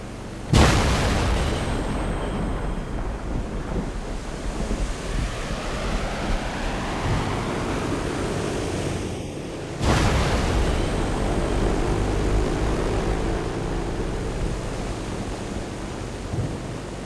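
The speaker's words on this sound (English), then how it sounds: "their C-130 transport crew demonstrates the jet-assisted takeoff" A C-130 transport plane makes a jet-assisted takeoff at an air show, a loud, sustained roaring rush that bursts in suddenly and surges again midway, broad and wind-blown with no voices.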